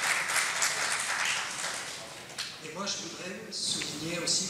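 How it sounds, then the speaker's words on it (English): An audience applauds conference panelists, a brief burst of clapping that fades as a voice talks over it. "Let's give a round of applause for them."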